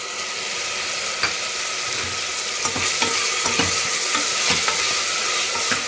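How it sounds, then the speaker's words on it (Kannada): Onion and tomato fry in a pan for rasam, giving a steady close sizzle broken by scattered scraping stirs and small clatters, with no voices. "ಇದಾದಮೇಲೆ ಇದಕ್ಕೆ ನಾನು ಒಂದು ಹೆಚ್ಕೊಂಡು ಟೊಮೆಟೊ ಹಾಕ್ತಾಯಿದ್ದೀನಿ"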